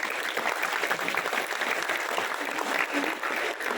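Dense, steady applause from a large audience at a religious talk held at a vocational high school in Ajibarang, Banyumas, Central Java, filling the whole stretch at an even level with no voices on top.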